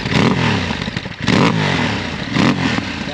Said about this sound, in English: It's got really nice little pop to it as you're on the overrun or backing off.